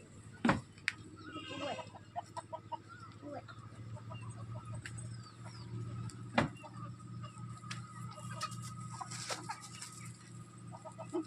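Chickens cluck and call inside a backyard poultry coop, repeated short clucks and a few louder squawks over a low steady hum, with faint voices in the background.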